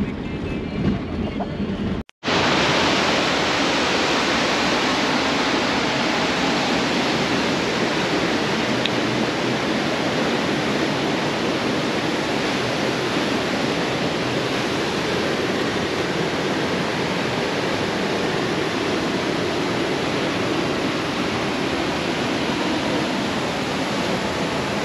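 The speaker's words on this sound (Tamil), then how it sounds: "கார் பார்க்கிங் பக்கத்துலேயே பெரிய வாட்டர் ஃபால்ஸ் இருக்குது." The large Thommankuthu waterfalls in Kerala roar continuously, a loud, dense, steady wash of falling water heard up close, interrupted only by a momentary cut near the start.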